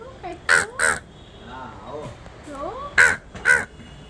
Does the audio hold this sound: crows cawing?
yes